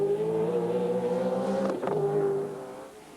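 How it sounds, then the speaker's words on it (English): A Peter Jackson Ford Falcon touring car at Mallala in the 1994 Australian Touring Car Championship hums with a steady engine drone, then a brief rev blip and a falling pitch as it slows, fading toward the end. "Glenn Seaton, the car is coming to a stop"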